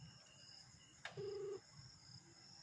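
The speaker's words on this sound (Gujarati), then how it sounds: "હવે મિત્રો એને આપણે લાલજીભાઈને ફોન લગાડી દીધો" A phone being dialed for a call, heard as a short burst of dialing tones, faint and close, against quiet background hiss and no talking.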